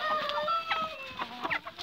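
Purebred chickens cluck and call close by on a farm, several overlapping birds with rising and falling tones and short clucks, loud and continuous with no talking.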